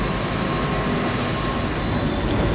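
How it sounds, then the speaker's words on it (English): Train crossing the bridge at the Falls of the Ohio, a steady loud rumble and roar that stays continuous and close throughout with no pauses or talk. "train coming over the Falls of the Ohio"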